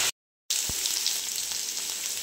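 Potatoes frying in oil produce a steady, bright, hissing sizzle after a brief silent gap, with one soft knock near the start and no talk.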